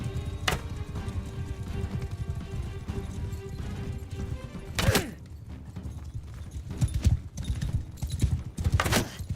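Rhythmic hoofbeats of a galloping horse in Mount & Blade II: Bannerlord, with a few sharp impacts and thuds cutting through, game-like sound effects over a steady background.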